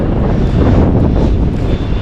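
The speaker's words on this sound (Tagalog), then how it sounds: "pasensya na po kung medyo malakas ang hangin" Strong, cold wind battering the microphone at a lonely fishing spot, a loud, continuous low rumble and roar with gusty swells, no voices.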